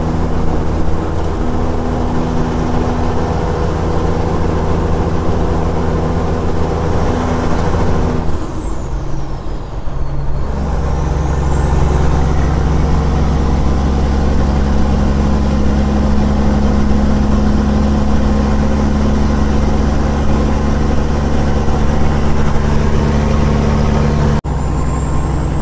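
A semi truck loaded to the tail with watermelons rumbles along, its heavy diesel engine droning loud and steady. A brief dip in the sound comes partway through, then the engine settles back into a steady haul with a high whine over it.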